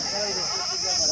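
Goats bleat amid a busy Indian weekly farmers' market where goats are being bargained over, the calls faint and steady under continuous crowd chatter and a high background hiss.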